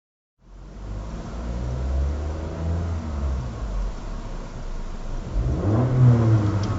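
A car engine revs steadily through the whole stretch, loud and close from inside the vehicle during a driving lesson, with the pitch swelling higher toward the end.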